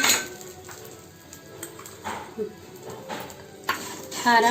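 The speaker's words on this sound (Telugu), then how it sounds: "మనం వేయించి పక్కన పెట్టుకున్న చామదుంపలు వేసి బాగా కలిపి" Fried taro pieces (chamadumpa) stirred in a cooking pan, with scraping clinks and a low sizzle under scattered bursts of close talking.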